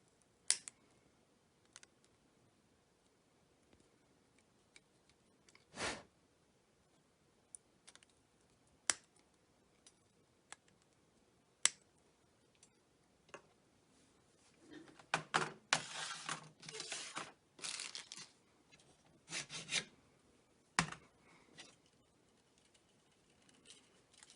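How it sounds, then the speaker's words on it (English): Side cutters snip the soldered component leads on a freshly assembled PCB, giving a handful of sharp, isolated clicks spaced seconds apart in a quiet room, followed by a denser burst of small rustling handling noises. "They all seem to have fairly good solder connections, so I'll go ahead and trim them"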